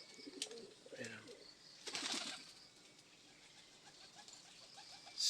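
A racing pigeon arrives at its loft after a 107 km race: a brief flutter of wings, then soft cooing and light pattering in a quiet outdoor setting, with a faint voice at one point.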